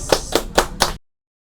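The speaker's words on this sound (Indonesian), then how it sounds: "Tepuk tangan, boys." Four sharp, evenly spaced claps ring out close in a podcast studio, then silence follows.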